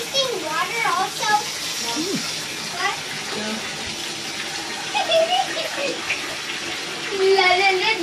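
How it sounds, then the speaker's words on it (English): Tap water gushes steadily into a bathtub being filled for a raccoon's bath, with a close, continuous splashing rush. Adults and someone talk over it throughout. "Drawing Blue's first bath"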